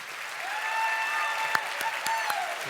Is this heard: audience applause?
yes